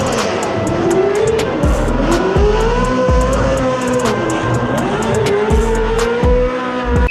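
A Toyota race truck drifts with a loud, continuous engine roar and long squealing tires, revs rising and falling in repeated swells as it slides, close and unbroken throughout.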